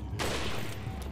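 A gunshot in Resident Evil 4 on Switch, a single sharp, loud report with a brief ringing tail, heard alone.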